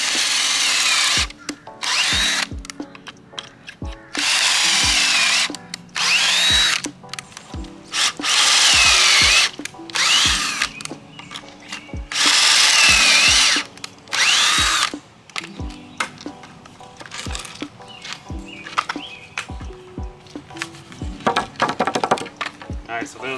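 A power drill drives 3.5-inch deck screws through pocket holes into wood while building a raised garden bed frame, in repeated loud whirring bursts separated by short pauses, with brief clicks and handling knocks between them.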